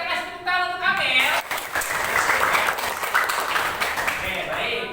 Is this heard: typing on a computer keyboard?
no